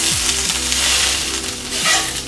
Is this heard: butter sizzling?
yes